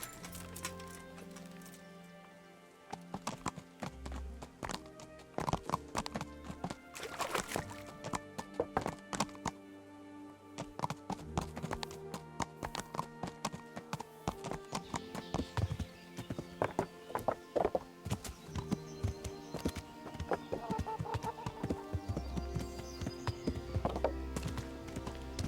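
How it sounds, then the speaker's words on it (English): Horse hooves clip-clopping steadily in Kingdom Come: Deliverance, a medieval open-world game, with a whinny now and then, over game music and ambient sound throughout. "we may as well take the horse we borrowed from the Cumans."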